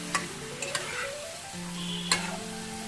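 Mutton with sour yogurt is stirred in a frying pan for rezala, giving a quiet, steady sizzle with a few light spoon clicks.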